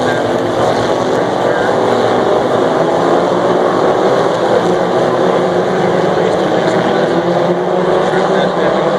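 Formula 1600 race cars at the Montreal Grand Prix, car number 1 among them, roar steadily and loudly in a continuous dense engine drone with constant crowd-and-track noise throughout.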